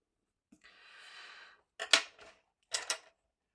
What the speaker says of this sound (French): C'est bizarre que quand on gomme sur ce papier, ça fasse ça.